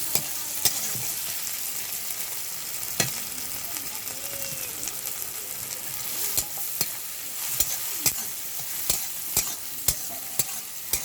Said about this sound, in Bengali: টমেটোটা একটু ভেজে নেব হালকা করে।